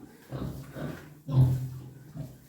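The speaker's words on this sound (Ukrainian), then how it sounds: "Дуже гучно вона рохкає." A small but aggressive pig in a barn grunts loudly in a run of rough, low bursts, close by, with one stronger grunt in the middle and no talk over it.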